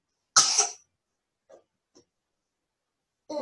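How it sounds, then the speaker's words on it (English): A person clears their throat with a loud, raspy cough up close, followed by two faint small throat sounds and then another cough starting at the end. "Just clearing your throat."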